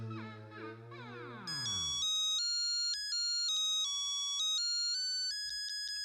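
An electronic telephone ringtone in a Hindi TV sitcom plays a bright repeating melody, loud and clear, after a short sweep of descending tones.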